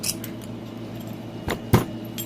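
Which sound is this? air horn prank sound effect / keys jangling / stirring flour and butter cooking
keys jangling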